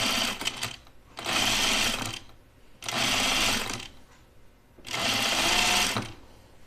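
A sewing machine stitching a pajama top seam runs in three separate bursts of about a second each, with quiet pauses between, close and steady while running.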